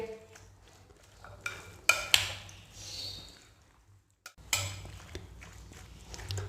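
Dahi chana chaat, chickpeas in yogurt, is mixed in a bowl with a spoon: a few sharp clinks and wet squelching stirs, then a brief pause, then a fresh burst of mixing.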